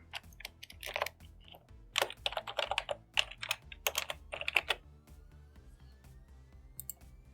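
An email subject line is typed on a computer keyboard: close, quick bursts of key clicks in uneven clusters, tapering off toward the end, with no talking.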